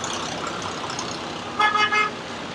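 Street traffic noise on a New York City block with garbage trucks: a constant roar of engines, then a double car-horn toot near the end, loud and close, with no one talking.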